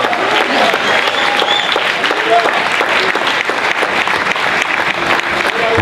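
A congregation at a Shabbat service applauds the youngsters with loud, sustained clapping and scattered voices mixed in throughout.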